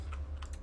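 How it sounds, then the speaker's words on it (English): Keyboard typing in the video game The Stanley Parable: a few quick, soft key clicks over a steady low hum, faint and brief. "I'm still typing?"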